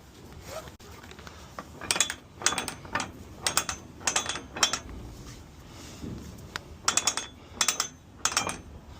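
Sharp ratcheting clicks come in quick bursts of two or three as a sliding ratchet strap on a 4-inch tie-down is cranked to pull out the slack, with short pauses between bursts, up close and clear.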